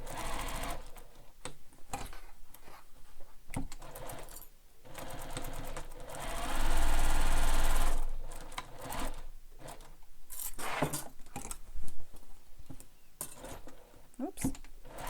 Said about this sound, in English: So sew all the way around, moving your lining panel out of the way.